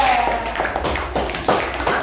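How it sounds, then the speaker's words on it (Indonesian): Classroom applause for a student group, a few loose rhythmic claps rising and fading over a short stretch, with a voice speaking faintly underneath. "Tepuk tangan untuk kelompok 2"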